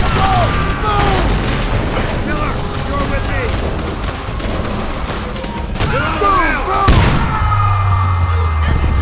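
Explosions boom amid gunfire and chaotic combat noise in the video game Call of Duty: World at War, with shouting voices mixed in; explosive charges detonate in a big blast near the end that gives way to a high ringing tone.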